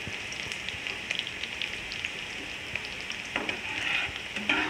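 An onion tadka for white chickpea curry sizzles and crackles steadily in hot oil close at hand, a continuous hiss with small pops and no voices.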